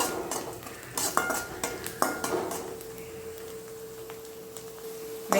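Onions with fennel being sautéed in a pan for bread masala: a spoon scrapes and clinks against the metal pan in a few distinct strokes over a faint background sizzle, then a lingering metallic ring.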